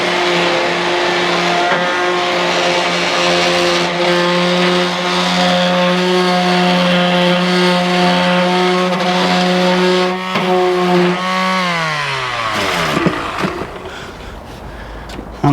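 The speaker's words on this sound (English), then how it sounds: "Can you give it a sand down?" A power sander works over a wooden garden gate, giving off a loud, steady motor whine that holds for several seconds before spinning down near the end.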